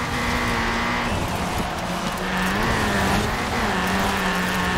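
A Ford Racing Puma in Forza Horizon 4, engine droning loudly and steadily with pitch dipping and rising as the car shifts and accelerates, with faint tire noise, no talk.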